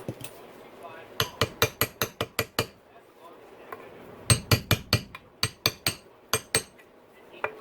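Light, quick metallic taps from a tool on a Yamaha YZ450F motocross engine part during a rebuild, coming in crisp clustered bursts of several strikes each with short pauses between.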